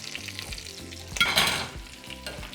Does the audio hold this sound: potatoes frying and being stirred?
yes